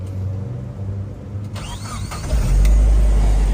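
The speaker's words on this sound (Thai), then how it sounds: "ฟังเสียงเครื่องก่อนนะครับ" Toyota 3Y 2.0 petrol engine in a Deva four-wheel light truck cranking and catching, a steady mechanical rumble that swells into a loud, low running roar near the end.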